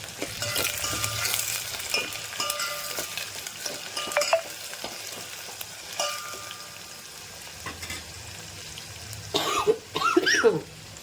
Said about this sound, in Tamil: வெங்காயம் வந்து கொஞ்சம் வதங்கணும் வெங்காயத்தை இப்படி வதக்கிடுவோம்